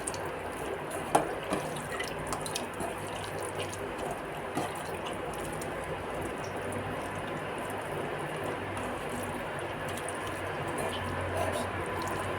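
Ripe tomatoes are squeezed and mashed by hand for a village-style tomato pepper rasam, giving continuous wet squishing and sloshing close up, with small drips over a steady background.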